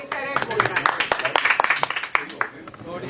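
Audience clapping at a live comedy event for the film Mere Husband Ki Biwi, scattered sharp claps in an uneven rhythm running under a comedian's continuous talk.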